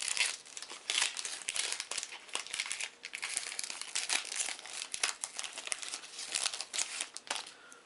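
Plastic-wrapped Ultimate Fighting Trashies trading card booster pack being torn open from the bottom, close and continuous crinkling and crackling of wrapper with irregular sharp rustles, quiet and alone.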